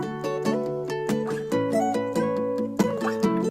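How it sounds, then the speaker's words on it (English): A looped guitar part from a beat plays alone: clean, bright plucked notes in a repeating melodic pattern at moderate volume, stopping abruptly at the end, with no voices. "For this part, I used all the guitar parts in the loop,"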